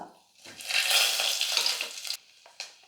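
Mustard seeds, asafoetida and three dry red chillies hit hot oil for sambar, bursting into a loud crackling sizzle that swells, holds for about two seconds, then cuts off, followed by one brief clatter.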